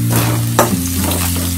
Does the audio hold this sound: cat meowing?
no